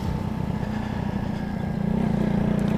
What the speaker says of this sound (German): Ich kann den Motor anwerfen, wenn ein Gang eingelegt ist, vorausgesetzt,